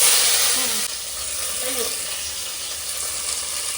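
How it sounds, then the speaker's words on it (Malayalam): Hot oil hisses and sizzles steadily, with a few faint pops of mustard seeds spluttering, loud and close. "എണ്ണ ചൂടായിട്ടുണ്ട്, നമുക്ക് കടുകിട്ട് പൊട്ടിക്കാം"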